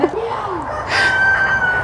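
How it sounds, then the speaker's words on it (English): A rooster crows once, loud and fairly close, its drawn-out call rising then holding steady, after a brief low clucking sound. "You can hear my roosters in the background."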